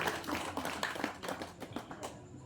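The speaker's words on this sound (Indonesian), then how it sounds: "Tepuk tangan untuk ibu-ibu ini" A small crowd claps for the women of RT 1 at a year-end neighbourhood meeting in Tlogomulyo, a brisk, close burst of hand claps with uneven rhythm lasting a couple of seconds.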